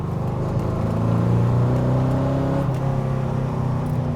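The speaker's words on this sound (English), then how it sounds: "Driving a GT40 is a really exciting experience." A GT40 Tornado replica's mid-mounted engine drones loudly and steadily from inside the lightweight car, a deep throbbing note that rises as it accelerates, then dips briefly and picks up again.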